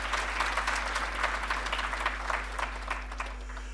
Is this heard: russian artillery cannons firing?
no